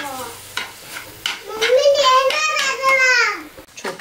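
Pav bread buns fry in a little oil, giving a soft sizzle and the scrape of stirring. A voice talks loudly over it for much of the time.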